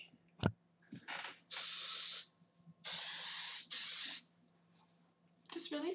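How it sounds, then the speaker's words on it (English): Hairspray is sprayed onto curled hair in several sharp hissing bursts, some short and some lasting about a second, separated by quiet gaps, close and fairly loud. "just toss your head and give it some spray"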